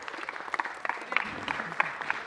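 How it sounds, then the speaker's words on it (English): Applause at a city council meeting, a thin, fairly quiet patter of clapping from a modest crowd, with a few sharper individual claps standing out. "let's give a round of applause to all the folks here"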